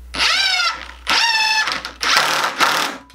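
Screws 2.5 inches long driven with a power drill through a workbench backboard into end grain below, three loud whining bursts rising in pitch, each about a second long with short pauses between.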